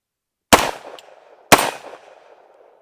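Tommybuilt T7, an MP7 clone, fires two single sharp shots about a second apart, each loud and close with a short echoing tail fading into silence.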